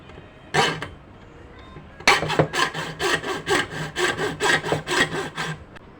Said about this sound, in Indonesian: Kita akan gergaji dulu.